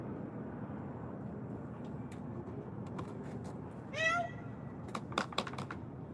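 A house cat gives a single short meow amid a steady background hum, followed by a few scattered taps and clicks nearby.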